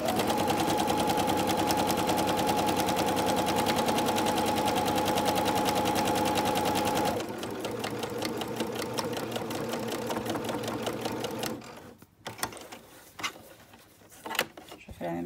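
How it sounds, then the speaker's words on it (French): A sewing machine stitches the side seams of a fabric bag lining with a fast, steady mechanical whir and rattle, then slows into slower stitching bursts and knocks, heard close up without talk. "Je vais ici faire les deux coutures donc de côté."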